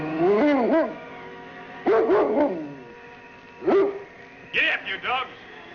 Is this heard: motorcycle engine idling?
no